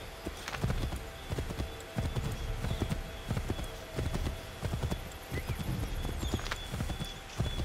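Horse hooves clip-clop in the video game Assassin's Creed 3, a steady rhythmic trotting beat of sharp knocks at moderate volume with game ambience beneath.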